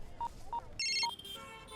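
Three short keypad dialing tones on a telephone, evenly spaced, followed by a brief burst of higher chirping tones as the call connects, close and clear with no talk.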